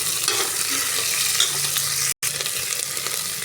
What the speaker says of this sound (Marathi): ह्याला पण मोठ्या गॅसवर चांगलं एक दोन सेकंद परतून घ्यायचं आहे